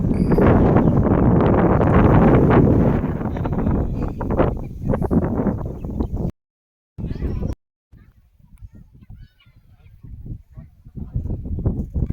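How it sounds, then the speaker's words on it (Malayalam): Strong wind in the Ponmudi hills of Kerala roars and buffets the microphone loudly, cuts out abruptly, then returns as softer gusts. "സൂപ്പർ കാറ്റ്."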